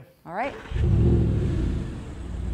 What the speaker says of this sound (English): here we are in the R8 Spyder with the top down, rolling around